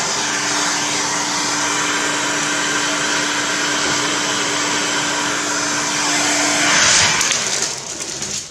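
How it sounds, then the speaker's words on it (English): A heat gun blows hot air in a steady, loud roaring hiss with a faint constant hum underneath, surging briefly near the end before it tails off. "remember to be careful of heat guns"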